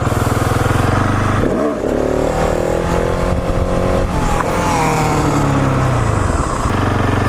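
KTM 701 supermoto motorcycle at a stunt lot, engine loud and close, revving hard with rising pitch sweeps, a brief dip as it shifts to second gear, then climbing again under continuous throttle.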